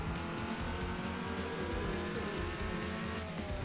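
A four-cylinder car engine from Need for Speed Underground, such as a Golf or Lancer, revs steadily in a race with tire squeal, a continuous loud engine drone with no talk.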